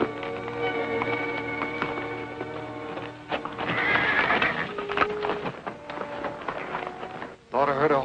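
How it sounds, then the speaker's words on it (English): A horse whinnies in the midst of a busy scene in a Deadwood setting, with music and other sounds layered underneath and a brief dip before the noise resumes. "Thought I heard a horse whinny."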